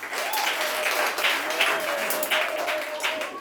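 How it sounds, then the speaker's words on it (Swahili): A church congregation claps in sustained applause, a dense wash of hand claps with a few swells, filling the room with no break. "Hebu mpeni Yesu sana makofi mengi."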